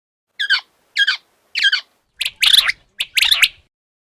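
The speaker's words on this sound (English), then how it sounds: "Quail." An animal sounds game plays a quail call, three short, bright chirps in an even rhythm followed by a louder, fuller burst of calls, clear and close against silence.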